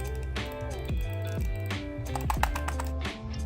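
Keys clatter on the cheap stock keyboard bundled with a budget $450 PC, with a quick series of close, light taps that sit over a steady tonal background.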